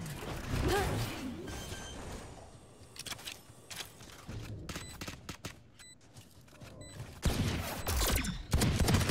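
Weapon reload in the tactical shooter Valorant on the map Bind, heard as a series of mechanical clicks and clacks mixed with distant gunfire and game sounds, with no talk.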